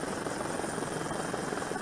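Sri Lankan Air Force helicopter taking off from Ratmalana Air Base in the early morning, a steady loud rotor and engine roar filling the whole clip with no break.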